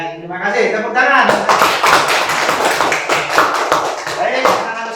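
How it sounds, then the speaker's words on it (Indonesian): Schoolchildren in a classroom clap for a classmate, a loud burst of close, rapid hand claps and taps that follows a brief spoken moment at the start. "Tepuk tangan untuk Kade."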